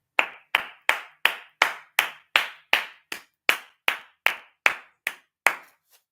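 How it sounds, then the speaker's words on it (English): A single pair of hands claps in a steady, evenly spaced rhythm, about fifteen sharp claps heard close and alone, the last few slightly softer. "Can we all just have a round of applause for that person?"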